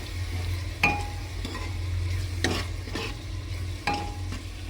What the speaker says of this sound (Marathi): हळद टाकल्याच्या नंतर ते थोडंसं मिक्स करून घ्या।